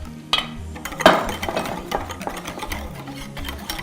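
Almond and egg mixture being whisked quickly into a pot of custard, with a few clinks of utensil against the pot near the start, then continuous mixing noise.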